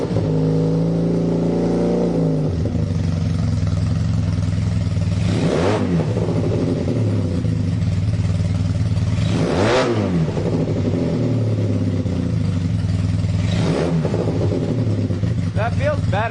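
A Kawasaki KZ440 motorcycle with a single carburetor runs on choke, its engine droning loud and close, then revving up and down in three swelling sweeps, with a voice speaking over it.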